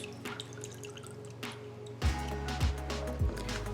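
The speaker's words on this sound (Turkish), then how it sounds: "şimdi büyük bir kasemize suyumuzu alıyoruz. İçine limon sıkıyoruz." Lemon juice is squeezed into a large bowl of water, heard as a few soft close drips and splashes over faint background noise.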